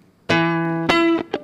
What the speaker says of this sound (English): Sounds like a guitar.